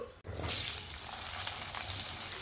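Cut potatoes and ash gourd hit hot oil seasoned with turmeric and salt, and a sudden bright sizzle bursts up after a brief quiet moment, then keeps crackling steadily and close.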